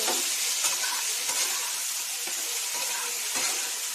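Jackfruit pieces fry in hot oil with a steady, loud hiss and crackle, punctuated by faint stirring scrapes and soft pops throughout, with no voices.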